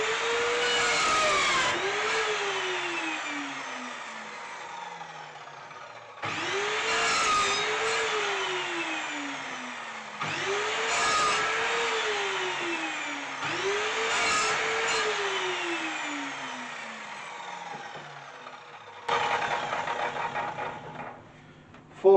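Miter saw tilted to a 30-degree bevel cutting wooden legs for a garden planter: four loud, close whining cuts, each motor spinning up, holding through the blade pass, then winding down, with short gaps and handling noise between.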